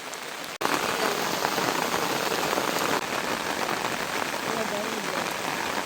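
Heavy rain pours steadily on a surface during a rainy roadside outing, a dense, loud, continuous hiss of drops with no pauses after a brief quiet moment at the start.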